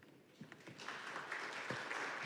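Audience at a public talk breaking into applause, the clapping starting faintly and thickening into a steady, fairly quiet wash of many hands.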